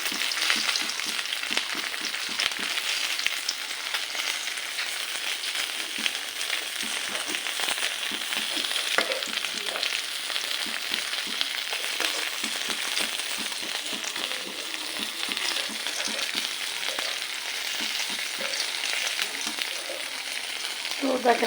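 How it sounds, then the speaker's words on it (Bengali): Dried fish fritters frying in hot oil produce a constant, close crackling sizzle, dotted with small ticks and pops from stirring throughout. "তো দেখেন আমার শুটকির বড়া কিন্তু ভাজা হয়ে গেছে।"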